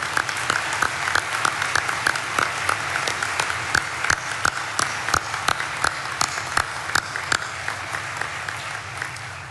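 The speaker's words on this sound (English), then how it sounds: "I ask that you join me in giving an incredible applause and thank you to these two ladies." A graduation audience applauding, with steady clapping sustained throughout and sharper individual claps standing out in a regular rhythm, moderately loud and without speech.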